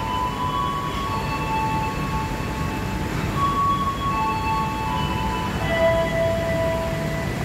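Jaka Tingkir train leaving Pasar Senen station: a steady, loud rail rumble with faint high squeals and tones drifting over it, carried on without any talking.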